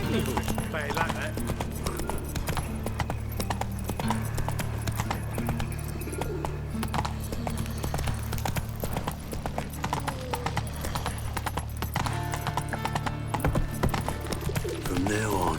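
Roach the horse gallops in The Witcher 3, with a steady stream of rhythmic hoofbeats under spoken dialogue and background game music.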